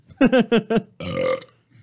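A person lets out four quick, punchy burps in a row, followed by one longer, drawn-out rumbling belch, loud and close with no talking.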